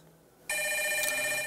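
A telephone rings loudly in a government office, a steady electronic ring that starts abruptly partway through and continues to the end.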